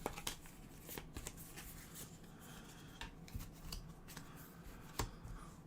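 Board game cards shuffled by hand in a steady, close rustle of riffles and slides, with a few sharper snaps, and no talk.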